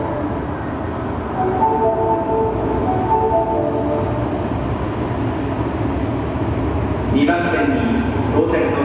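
An unrenovated Osaka Metro Series 66 train bound for Takatsuki-shi pulls into platform 2 at Ogimachi station on the Sakaisuji Line with a low, steady rumble and a rising squeal near the end, under a station announcement voice.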